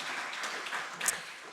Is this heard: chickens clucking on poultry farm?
no